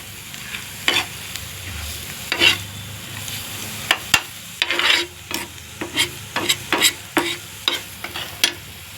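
Brinjal masala fries in a pan until the oil separates: a low, steady sizzle broken by repeated sharp spatula scrapes and stirring strokes, close and fairly loud, with no voices.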